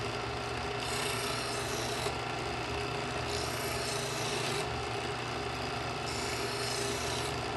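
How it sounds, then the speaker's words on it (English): Smith's Adjustable Edge Pro electric knife sharpener hones a knife blade between interlocking ceramic wheels, giving a steady, close rasping grind with a motor hum underneath and brighter scraping passes every second or two, no talking. "I'm only using the interlocking ceramic wheels to touch up the blade and maintain the"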